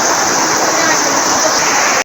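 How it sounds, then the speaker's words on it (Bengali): Heavy rain pours down in a steady, dense roar with no pauses, loud and close throughout, with no voices. "ঘরে যাওয়ার সঙ্গে সঙ্গে প্রচন্ড বৃষ্টি চলে এসেছে"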